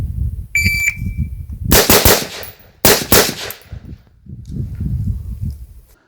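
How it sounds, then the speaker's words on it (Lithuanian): Sharp pistol shots at a shooting range in a Mozambique drill, two quick close reports in succession, loud and near, with a faint electronic beep before them and low rumbling noise between. "atlieka 2 šūvius į krūtinę ir 1 į galvą"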